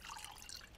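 Water pours into a bowl in the survival game The Last Plague: Blight, a short, steady trickle and splash heard alone.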